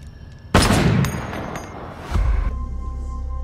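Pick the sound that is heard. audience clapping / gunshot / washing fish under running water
gunshot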